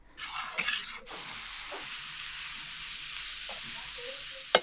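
Grated carrots sizzle steadily in a frying pan with vegetable oil, close and fairly quiet, while a utensil stirs and scrapes through them in intermittent strokes.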